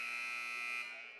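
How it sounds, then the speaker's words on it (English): A basketball game buzzer in a school gym during a boys junior varsity game, a steady loud electronic tone held for about a second before fading out, with no talk over it. "as we have the buzzer there"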